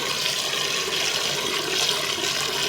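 Water being poured into a pot of soaked, rinsed basmati rice, a steady full rushing splash that holds constant for the whole stretch without pauses, loud and close.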